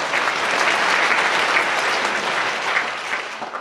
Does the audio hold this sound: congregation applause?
yes